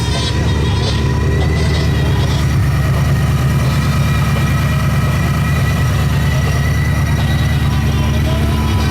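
Shelby Super Snake with a supercharger, idling with a steady low rumble and a thin high whine layered over it, loud and continuous throughout.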